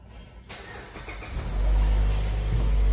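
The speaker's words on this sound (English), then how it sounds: "Then you're gonna start the car." A 2022 Mazda's engine cranks and catches after a brief quiet moment, then settles into a loud, steady idle rumble that builds slightly; no talking.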